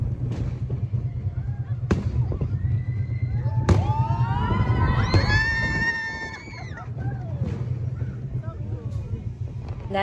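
Fireworks burst outdoors at Disneyland, heard while riding Big Thunder Railroad, with several sharp bangs and rising whistles over a steady low rumble and wind.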